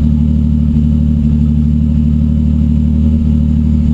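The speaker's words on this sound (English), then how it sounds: "It's idling a little high right now. But yeah, it's running." A turbocharged 3500 V6 in a Grand Prix idles slightly high on Megasquirt engine management, a loud, steady low rumble with an even, continuous drone close by.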